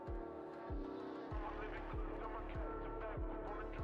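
A Koenigsegg hypercar in TDU: Solar Crown drives with a loud, close engine drone and rhythmic revving pulses roughly every half second, tires squealing faintly along the way.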